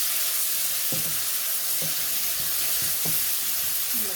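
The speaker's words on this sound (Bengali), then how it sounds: "আদাটা দিয়ে একটু কষাইতেছি তেলের মধ্যে" Ginger sizzling steadily in hot oil in a pan, a loud constant fry with a few soft scrapes of stirring, no voices.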